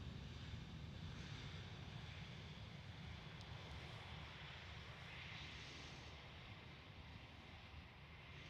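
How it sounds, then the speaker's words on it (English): A Vueling Airbus A320 passes at Schiphol airport, a distant, steady jet roar with a broad rumble and wind hiss that holds for several seconds and slowly fades. "That is an Airbus A320 family. But whose is it? Vueling? Yes, Vueling. Airbus A320."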